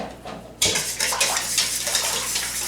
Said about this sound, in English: I'm just going to whisk it around.